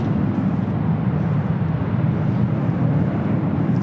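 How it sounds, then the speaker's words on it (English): A United Boeing 787-9 Dreamliner bound for Newark takes off from the south side at LAX, a steady loud jet engine roar rumbling continuously without a break. "United Dreamliner heading to Newark, flight 1855 is 787-9 Dreamliner, taking off there on the south side"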